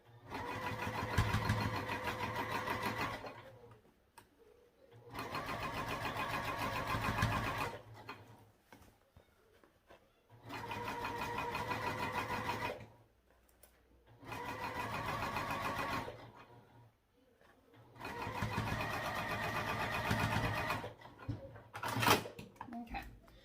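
A domestic sewing machine stitches a sling in four long bursts, a fast steady mechanical whir and rattle that stops and restarts with quiet pauses between, close and fairly loud.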